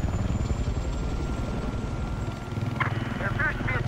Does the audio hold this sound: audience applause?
no